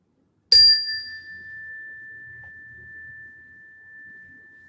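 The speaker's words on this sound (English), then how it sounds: "And with the sound of the chime," A meditation chime is struck once, ringing out clearly and then fading in a long, pure sustained tone during a mindfulness session.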